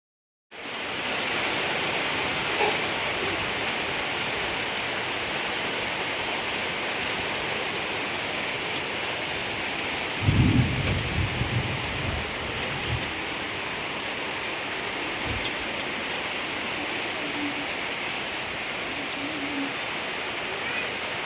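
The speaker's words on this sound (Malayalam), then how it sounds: "ഞങ്ങൾ വീടെത്തുന്നതിന് മുന്നേ മഴയായിട്ടോ" Heavy monsoon rain pours steadily over a rural village home, a dense unbroken hiss throughout, with a brief low rumble like distant thunder near the middle.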